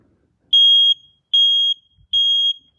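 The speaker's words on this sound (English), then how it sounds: "my smoke detector just beeped" A kiddie smoke alarm gives three loud, high-pitched electronic beeps. They are evenly spaced, each lasting under half a second, with near silence between them.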